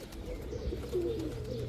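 Pigeons in a coop, soft low cooing murmurs close by against a faint background, brief and quiet.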